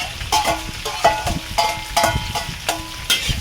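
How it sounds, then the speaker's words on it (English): Vegetarian Xinghua bee hoon ingredients fry in a wok over a big fire, a steady loud sizzle broken by repeated bright scraping clangs of the spatula stirring against the metal, about one stroke every half second. "All the ingredients are going to fry."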